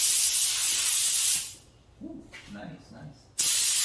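A spray gun lays down matte clearcoat at 20 psi of air with the fluid knob at 2.5 turns, giving loud, steady hissing bursts that stop briefly while a voice exclaims, then start again.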